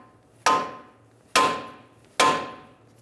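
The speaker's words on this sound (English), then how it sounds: "Okay, so now you want to whack it right here." A hammer whacking the tie rod on a 2000-2007 Ford Taurus front suspension to free it, three sharp, ringing metal strikes spaced under a second apart, close and alone.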